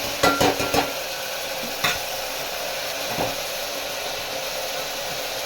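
Onions sauté in hot oil in a pan for a Madras-style vadacurry, a steady close hiss and sizzle with a few clattering stirs near the start and a couple of isolated scrapes later.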